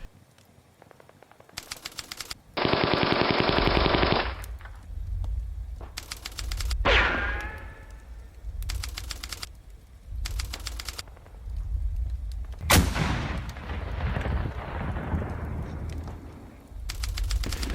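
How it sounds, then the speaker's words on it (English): Vickers machine gun and anti-tank gun fire in a wartime battle scene: repeated bursts of rapid rattling shots come in separate blocks with sharp booming impacts in between, loud and close, with no talk. "The Vickers team continues firing at the German mortar team."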